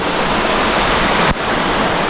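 Steady, loud rush of water from the Ryomina River on a hot summer day, a broad continuous roar like a waterfall or rapids heard close by, with a brief dip in level partway through.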